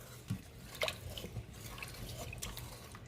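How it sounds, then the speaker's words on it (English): Bouillon concentrate being stirred into hot water in an Instant Pot on saute gives faint liquid swishing and a couple of light drips or taps of a utensil, close and quiet. "I'm just going to give those a stir"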